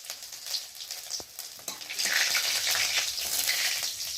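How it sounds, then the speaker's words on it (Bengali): Fennel seeds, dry red chillies and ginger sizzle in hot oil in a kadai, a steady close crackle that swells louder and denser halfway through with a few light clicks of stirring. "ফোড়নটাকে ভালো করে ভেজে নেব"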